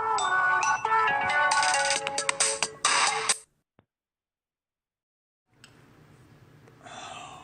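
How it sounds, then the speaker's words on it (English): A loud electronic ringtone plays in a repeating melodic pattern for several seconds, then cuts off abruptly; after a silence, faint rustling and background noise return. "phone's ringing"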